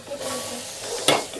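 Cumin seeds splutter in hot oil while vegetables are tempered, making a brief crackling sizzle with one sharper pop near the end, close and fairly quiet.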